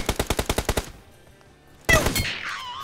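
Gunfire in PUBG Mobile: a rapid burst of about eight loud, evenly spaced shots, a short near-silent pause, then a final sharp blast followed by a ringing echo.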